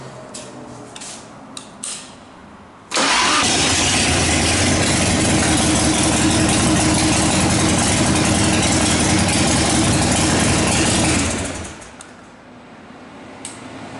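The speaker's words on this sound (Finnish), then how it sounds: "Moottori käynnistyy vaivatta." A heavy motorcycle engine, started with a compact StarttiMokkula SM-7.5 jump starter, fires up abruptly after a few quiet seconds and idles loudly and steadily for about nine seconds before cutting off.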